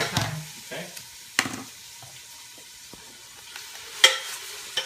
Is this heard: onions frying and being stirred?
yes